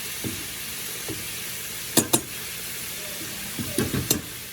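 Chicken fries in a pan with a steady, soft sizzling hiss, broken by a few close clinks and light taps from handling the pan.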